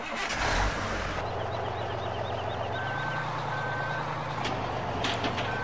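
A farm truck reverses with a regular series of electronic backup beeps over a steady rumbling diesel engine, with the engine note rising briefly partway through; no talking.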